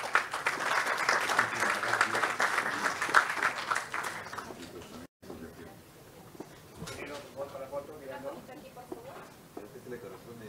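Audience applause at a mining forum in Lima, a dense crowd clapping for about four seconds, then a brief gap and quieter room sound with a voice speaking.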